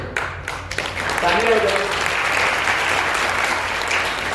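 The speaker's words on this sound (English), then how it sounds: "Clap for it." An audience at a village competition prize ceremony applauds the boys' section winner, with steady, dense clapping that builds and holds over a few seconds while a voice speaks briefly at the start.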